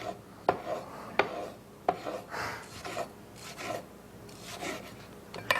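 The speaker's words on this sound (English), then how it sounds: "And then tomato, for example. So thin slices are made really easily." A kitchen slicer with big jagged teeth cutting thin slices of tomato, giving a series of soft rasping, scraping strokes at a steady rhythm with light clicks, close and fairly quiet.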